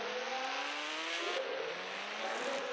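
A Ghost Rider motorbike in the Indian Bike Driving 3D game drives along, its synthetic engine holding a steady, fairly quiet whine with gently rising pitch and no voices over it.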